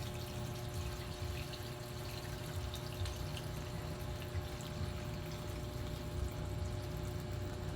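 Water pours steadily while a pig is being bathed, a faint continuous splashing flow without a break.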